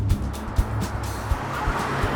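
A car turns around in a dubbed Indian movie scene, with a steady engine rumble and road noise throughout, a few brief thumps and a hint of tire scrub, and no talking.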